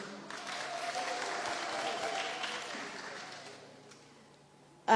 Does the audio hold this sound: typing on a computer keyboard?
no